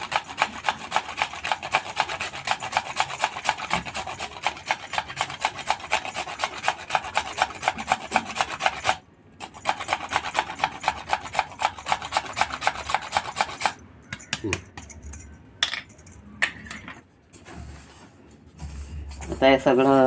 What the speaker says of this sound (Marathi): हे बघा आता थोडंसं जायफळ किसून टाकूया आपण.